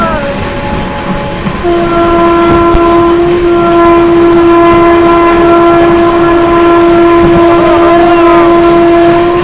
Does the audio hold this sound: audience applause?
no